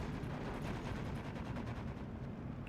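Bombs dropped from planes in Steel Division 2 explode in a faint, distant, continuous crackle and rumble of blasts, with no voices.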